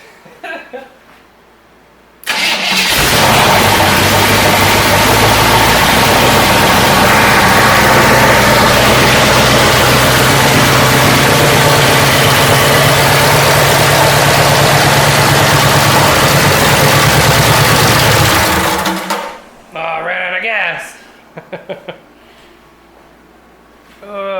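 Junkyard engine for a 1972 Corvette, running on a garage floor with a test carburetor, idles loud and close with a rough low rumble for about seventeen seconds, then shuts off, followed by brief clatter and handling noises.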